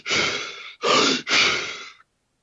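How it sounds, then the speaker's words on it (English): Someone demonstrates controlled hyperventilation with three forceful, rushing breaths, close and fairly loud, each a breathy whoosh, the first two short and the third longer, followed by silence. "where essentially it looks like hyperventilation"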